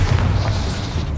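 A Bombarda spell explosion in Hogwarts Legacy on PS5, a loud, dense boom that fills the whole short moment with rumbling low-end impact and no pause.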